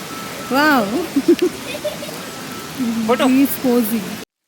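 A steady hiss of falling rain in Betab Valley, Jammu and Kashmir, fills the background while a person speaks over it in short phrases.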